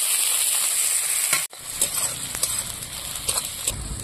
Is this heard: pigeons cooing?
no